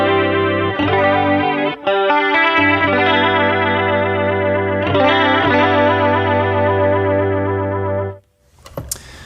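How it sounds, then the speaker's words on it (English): Electric guitar through a flanger pedal holds throaty, sweeping sustained chords with a shifting, swirling tone, played alone and loud before stopping abruptly near the end. "it's very much a flanger. It has like that shifty EQ thing that makes it sound a little throaty"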